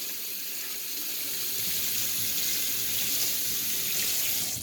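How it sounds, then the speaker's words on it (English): Water running from a kitchen tap while hands are washed to remove butter and sugar, a steady close hiss and splash that swells slightly and continues throughout, with no talk. "Washing my hands again to get all that butter and sugar off real quick."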